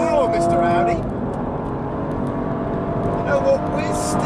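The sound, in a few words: BMW M135i accelerating in drag race against Audi RS3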